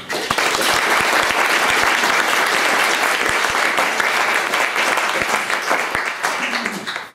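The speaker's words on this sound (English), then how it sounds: "Thank you very much for the introduction and for the applause." An auditorium audience at a Royal Society lecture on cosmic rays applauds the lecturer with dense, steady clapping that holds for several seconds, a few close sharp claps standing out, before dying away abruptly.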